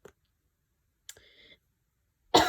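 A computer mouse clicking, with a couple of short, crisp, close clicks separated by quiet, followed by a brief burst of louder noise at the end.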